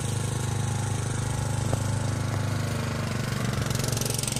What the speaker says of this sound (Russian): Двухтактный мотор у него.